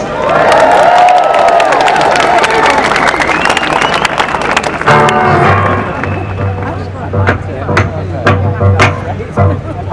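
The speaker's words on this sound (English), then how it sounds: "And a round of applause for this." Crowd at a March for Europe rally in the street breaks into cheering and applause, loud and close at first, then fading under rhythmic claps and a voice speaking over it.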